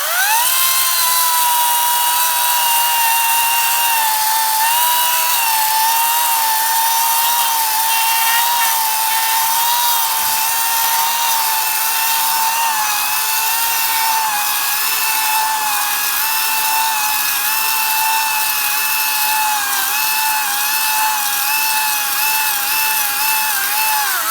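A Greenworks Pro 60-volt cordless chainsaw with an 18-inch bar cuts through a piece of firewood, producing a loud, continuous high-pitched electric whine with a slight wavering as the chain bites into the wood, up close the whole time.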